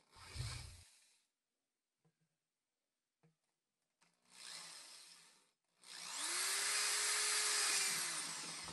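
A variable step drill bit bores holes through a 6-gallon plastic bucket for a ceramic gravity water filter, in several separate bursts of close, loud whirring, each ending with the drill spinning down, with short quiet gaps between them.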